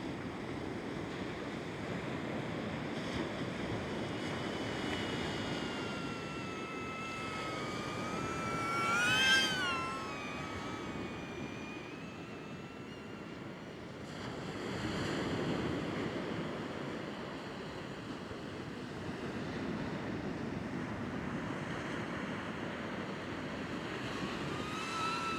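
Wind gusting at a beach with surf under an overcast sky in Perth, a steady broad rush of moderate loudness that swells around the middle, with a brief whining tone as a small DJI Neo drone passes nearby.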